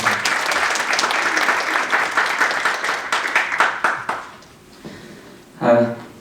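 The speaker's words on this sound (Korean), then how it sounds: "큰 박수로 성남시의회 윤창근 의장님을 앞으로 모시겠습니다" Applause from an audience at a youth counseling center's annual report event welcomes the Seongnam city council chairman to the stage, steady for about four seconds, then fading out, followed by a brief voice.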